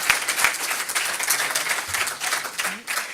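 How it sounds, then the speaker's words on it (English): An audience applauding the judges at an entrepreneurship pitch competition, a sustained round of clapping from a moderate crowd, with a few faint voices underneath. "I'd like a round of applause, please, for our judges and their help tonight."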